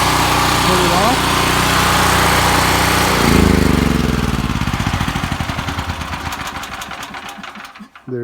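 A Generac 6500 portable generator engine runs loud and close with a steady mechanical drone, then the note shifts and settles into a rhythmic pulsing chug that fades and cuts near the end.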